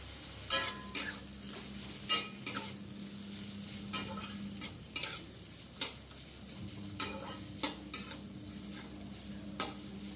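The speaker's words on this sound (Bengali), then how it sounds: "মিক্স করে এটাকে ভাজা ভাজা করতে দেবো।" Snake gourd fries in a covered pan with a soft ongoing sizzle, broken by a rhythmic series of sharp clinks and scrapes from stirring, loud and close.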